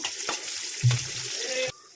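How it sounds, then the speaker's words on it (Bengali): Pieces of fish fry in oil with a close, steady sizzling hiss and a brief low clunk partway through, then the sound cuts off abruptly. "ফিসকে একটু লাল লাল করে ভাজিয়ে নিব"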